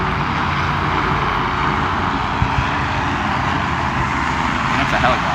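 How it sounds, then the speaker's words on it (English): A helicopter flying overhead during a San Francisco city walk near the bay, its steady broad rotor and engine drone loud and continuous, with people talking over it. "That's a helicopter."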